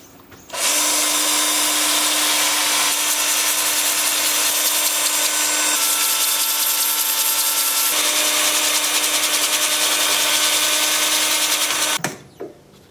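A power sander runs at 80 grit on a junk-wood bowl, a loud, steady, close whirring grind that holds almost unbroken for about eleven seconds before winding down.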